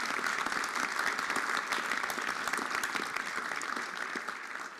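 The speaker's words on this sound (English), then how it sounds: "How about a round of applause for all of them?" An audience at the City of Watertown inauguration ceremony gives a round of applause, sustained and full, holding steady before tapering slightly at the end.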